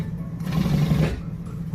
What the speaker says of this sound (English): Start sewing across.